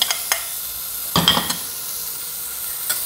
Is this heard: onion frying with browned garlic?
yes